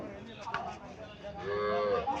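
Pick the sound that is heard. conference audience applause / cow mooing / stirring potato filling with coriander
cow mooing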